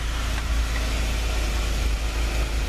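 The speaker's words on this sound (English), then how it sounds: "the engine still runs, as you can see" A 2015 Jeep Wrangler engine idles steadily after a remote start, with the key removed: a continuous low rumble held at an even level throughout, with no voices.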